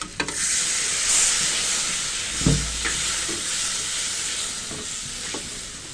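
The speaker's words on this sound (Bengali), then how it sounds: "এখানে মশলাটা সুন্দর মধ্যে ভাজার জন্য পানিটা দিয়ে দিচ্ছি" Whole spices with bay leaves frying in a pan as a little water is added, giving a steady close sizzle and steamy hiss with a few soft stirring clinks, for an egg korma.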